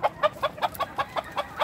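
A rooster of the Induban breeding line gives a run of about nine quick, evenly spaced clucks, close and moderately loud, with no voices.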